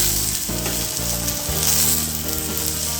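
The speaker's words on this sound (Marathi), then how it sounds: "परतून घ्यायचं कांदा टोमॅटो छान परतण्यासाठी मी यात थोडं मीठ घालत आहे" Onion and tomato sizzle loudly in a pan with salt added, a steady close frying hiss broken by occasional stirring.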